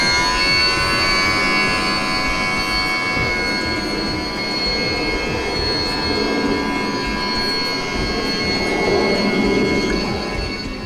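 A Fast Lane Sea Bird RC boat, powered by AA batteries with a single motor and single center propeller, runs on water, its electric motor giving a steady, fairly loud whine that holds throughout with no talking.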